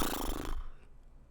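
A person imitates a horse with a brief breathy snort and lip flutter, close and loud for about half a second, then fading into quiet room noise.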